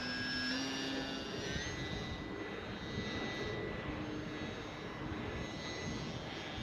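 RC model glider with electric motor launching at full throttle outdoors, a steady high-pitched motor whine with rising tonal harmonics and constant wind noise throughout, no talk.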